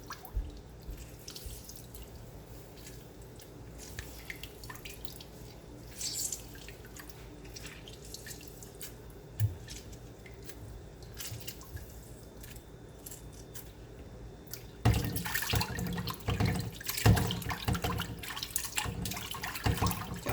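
Tap water runs into a kitchen sink while raw beef kidney is rinsed, Jamaican style, with lemon and vinegar. Soft drips and light splashing continue steadily, swelling into a louder, fuller gush of running water near the end.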